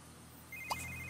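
A phone rings in The Sims 3, a short electronic ringtone chirping in near the end over quiet game ambience, with no one speaking.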